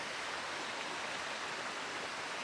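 A river flows steadily near a woodland trail, a constant soft broadband rush of water with no breaks and no voices.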